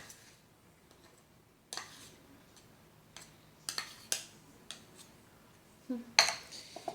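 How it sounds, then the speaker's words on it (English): Coconut oil scooped from a container and stirred into a homemade essential-oil body scrub, giving sparse metallic clinks and scrapes of a utensil against a bowl at close range, scattered across a quiet room with no talking. "so my third cup of coconut oil, scoop it out and mix it in"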